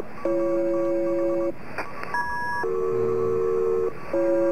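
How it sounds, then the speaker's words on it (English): Electronic Morse code style beeps inside the video game Antenna, steady sustained tones switching pitch in sequence with short gaps, clear and moderately loud with no talking. "I'm also hearing some Morse code out the wing-wang there"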